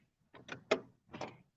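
A sewing machine stitches a single layer of Luxe Cuddle fabric for a quillow in short, close bursts of mechanical whirring, about four runs within a second and a half, with no talking.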